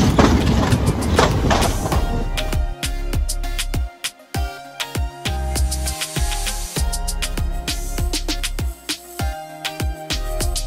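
A mini train runs on its track at Vrindavan Amusement Park in Chakur. Loud, rhythmic clickety-clack wheel beats and rattling cars carry on steadily close by, with no talking.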